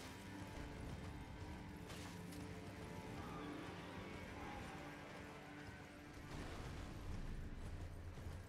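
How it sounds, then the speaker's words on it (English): A spirit horse gallops in Elden Ring with a steady rhythm of soft hoofbeats over a dense game soundscape, faint and continuous throughout. "Thanks for the spirit horse."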